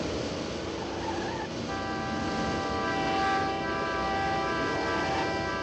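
An Aston Martin DB5 in Goldfinger drives steadily with a continuous engine and tire roar, overlaid by sustained orchestral tones throughout.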